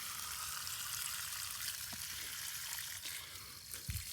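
Filtered creek water pours steadily from a filter, a continuous broadband hiss and trickle with a few brief splashy knocks near the end, close and fairly loud, and nobody speaking.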